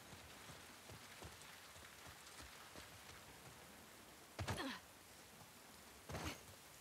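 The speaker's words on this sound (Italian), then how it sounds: "sicuramente la pioggia che stava grattando da qualche parte" Rain in the video game The Last of Us Part II patters as a faint, steady hiss, broken by two short louder thuds.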